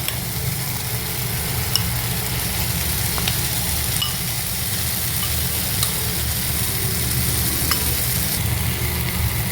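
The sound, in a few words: ground masala paste frying in a pan for chickpea masala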